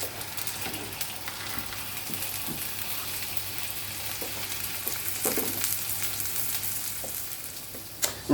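Breadcrumb-coated chicken pieces frying in a pan, a steady close hiss of sizzling oil with occasional pops and small crackles throughout, no voices.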